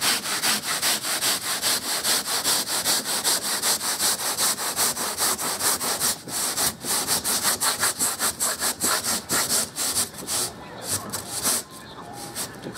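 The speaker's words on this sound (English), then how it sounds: "right now I'm squaring it off with a regular saw" A regular hand saw squares off excess foam on a Hullabaloo canoe, cutting in steady, rapid back-and-forth strokes up close and loud, pausing briefly near the end.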